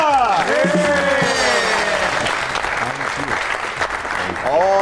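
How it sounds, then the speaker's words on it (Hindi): Studio audience applause for a guest on a festive comedy talk show, with crowd clapping running under a background music bed and voices. "आपकी बहुत सी तालियों में the one and only Samad"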